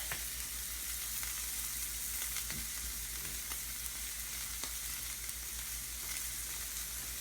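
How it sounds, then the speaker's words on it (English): A thin-cut steak sizzles in a pan for breakfast, giving a steady, loud, unbroken frying hiss with no voices. "because this steak is a thin cut steak, it's not going to take too long to cook up."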